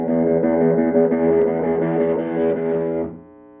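An electric guitar played through an amp with the overdrive channel engaged rings out as a thick, distorted sustained chord. It holds steady for about three seconds, then cuts off into a faint hum.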